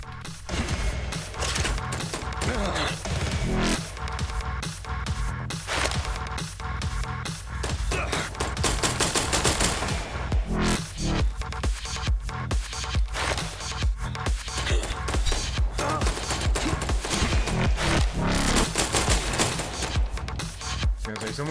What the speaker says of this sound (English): Someone's just shooting me in the ass.